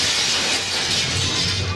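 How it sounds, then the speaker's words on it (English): A runaway lorry smashing into a pub, a dense continuous roar of shattering glass and crumbling bricks, loud and close with no voices. "The impact sent bricks and glass flying through Weatherfield's most famous pub"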